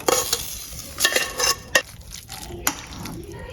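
Chopped vegetables for Gujarati handvo sautéing in a pan, a soft steady sizzle broken by several sharp clinks and scrapes of a spoon stirring against the metal.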